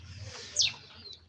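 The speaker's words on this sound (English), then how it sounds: "this is the chicks house, and then I have some few birds here" In a chicken house, a chick gives a single short, high chirp, faint and brief against a low background hum.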